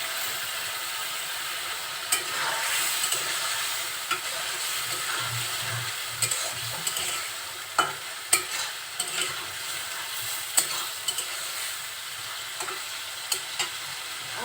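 Potato and bitter gourd pieces sauté with taki fish in a pan, giving a continuous close sizzle and hiss with scattered clicks and scrapes from stirring, and no voices.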